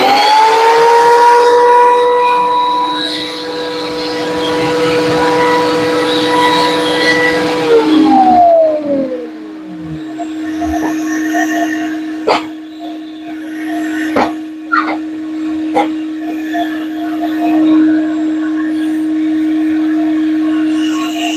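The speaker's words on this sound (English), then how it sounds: "dust extractor and planer. Here we go." A dust extractor runs with a wood planer, its loud tonal whine winding down partway through, leaving a steady hum broken by sharp knocks and clatters.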